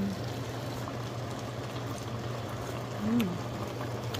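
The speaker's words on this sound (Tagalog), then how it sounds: "Nakakulo na siya." A pot of vegetables for dinengdeng bubbles at a steady boil, a soft continuous simmering hiss with a low hum beneath and a faint brief tone near the end.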